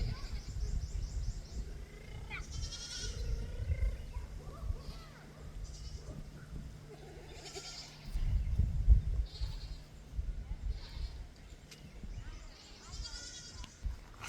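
Goats bleating on a homestead, several calls scattered through the scene at moderate distance, mixed with people talking and outdoor background noise.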